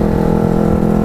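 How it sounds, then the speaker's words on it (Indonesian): Motorcycle with a loud, non-stock aftermarket exhaust riding just ahead, a steady droning engine note with a strong low hum that stays constant and close throughout. "motor di depan gue ini knalpotnya udah aftermarket, jadi udah nggak standar lagi, jadi agak sedikit bising men."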